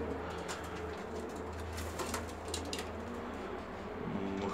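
Bulgarian pigeons coo quietly in a coop, with low murmuring calls and occasional clicks and rustles over a steady background hum.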